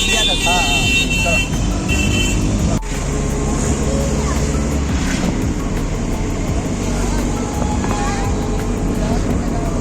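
An auto rickshaw rattles along the road to Benares, its buzzing engine and road noise running continuously close up, with a brief dip partway through and a voice talking over it.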